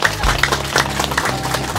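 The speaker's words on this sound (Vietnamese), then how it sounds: "một tràng pháo tay thật nồng nhiệt" Wedding guests applaud in a short, dense burst of clapping while music with a low, pulsing bass plays underneath.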